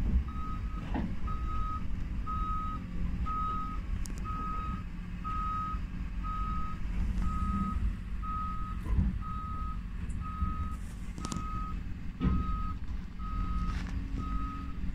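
An excavator backs down off a truck, its reversing alarm beeping in an even, repeated rhythm for many seconds over a loud low diesel rumble and occasional clanks of the machine.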